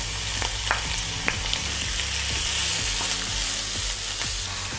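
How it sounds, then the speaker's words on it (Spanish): Onions frying in hot oil in a pan for a beer meatball sauce, giving a steady loud sizzle throughout with a few soft clicks of utensil contact, no talking. "Le pongo una cantidad en la sartén y en cuanto se caliente se le añade la cebolla."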